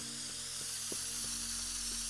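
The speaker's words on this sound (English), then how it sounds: "we will continue with our spray can" Spray can hissing steadily in the game Teardown, a continuous broad airy spray with faint repeated soft ticks beneath, held at an even level throughout.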